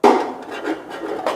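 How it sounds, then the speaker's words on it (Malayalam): A utensil scrapes stuck masala from the bottom of a pot of Palakkad Rawuther mutton biryani, a few short rasping strokes, close and fairly loud, with no talking. "ഇങ്ങനെ പിടിക്കുന്നതൊക്കെ അപ്പം ചുരണ്ടി മാറ്റണം കേട്ടോ"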